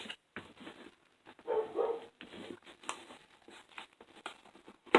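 Indoor dogs bark and yip in short bursts over a few seconds, moderately distant and fairly faint, with brief quiet gaps between the barks.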